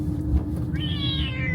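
A cat lets out a drawn-out, rising and falling meow close by over a low rumbling background hum, with no talk.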